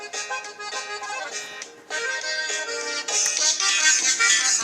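A phone plays a melodic musical ringtone, a steady bright tune that swells louder partway through and carries on continuously without pauses.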